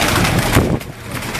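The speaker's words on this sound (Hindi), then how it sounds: "ये भी भट्ट साहब ने इन कबूतरों को भी बड़ा संभाल के रखा हुआ है।" Fancy pigeons in Gujranwala coo in short, close, soft calls within a brief burst of bird sound.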